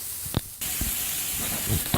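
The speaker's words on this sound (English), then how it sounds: "You can hear that sizzle" Constant hissing sizzle from food on a hot Weber Q barbecue grill, with a few soft knocks and clicks over the steady crackle.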